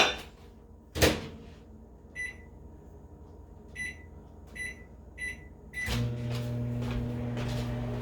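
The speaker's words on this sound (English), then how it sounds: "Put that back in the microwave for 2 minutes." Microwave oven humming steadily while heating a peanut brittle mixture, with a thump near the start, a few short clicks and knocks, then a louder, fuller drone as it runs; no talking.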